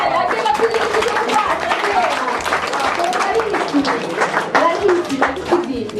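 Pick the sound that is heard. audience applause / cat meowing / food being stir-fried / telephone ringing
audience applause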